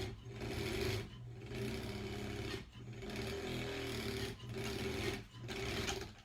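A home sewing machine stitching a quilt block in steady bursts, a loud continuous mechanical whir that stops and restarts several times, with no talking.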